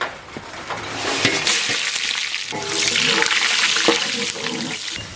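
Cinnamon and fennel seeds dropped into hot oil for an egg gravy, a close bubbling, crackling sizzle with sharp pops and a rush of frying that swells and settles, with no voices.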